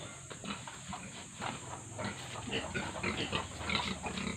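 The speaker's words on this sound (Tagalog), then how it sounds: "Itong ad ng baboy ni Anit." A pig grunts and snuffles repeatedly in short, uneven bursts at close range over a steady background hum, with no talk.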